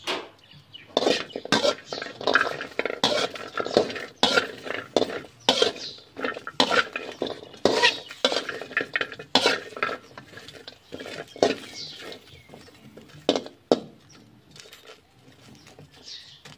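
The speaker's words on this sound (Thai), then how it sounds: "ตั้งกระทะแล้วก็เอาพริกกระเทียมลงไปคั่วกันนะ" Quick, busy scraping and clattering of a utensil dry-roasting chili and garlic in a pan, with light crackling throughout, close by and fairly steady.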